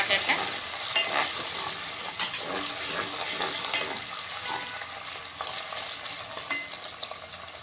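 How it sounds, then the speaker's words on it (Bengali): Chicken and ginger paste frying together in a pan, a continuous close sizzle with stirring scrapes and a few sharp clatters, no voices. "চিকেন আর আদাটা আমি ভেজে নেব একসাথে"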